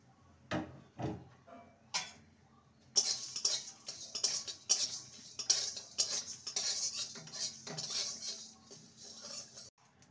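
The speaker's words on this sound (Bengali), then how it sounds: "1 টিস্পুন গোটা জিরে, 1 টিস্পুন মৌরি, 1 টিস্পুন ধনে, একটা শুকনো লঙ্কা, কয়েকটা গোলমরিচ আর দুটো এলাচ শুকনো খোলায় ভেজে নেব" Whole cumin, fennel, coriander seeds, a dried chilli, peppercorns and cardamom being dry-roasted in a pan, with close metallic scrapes and clinks of a spatula stirring in irregular bursts, quieter at first and busier later, no voices.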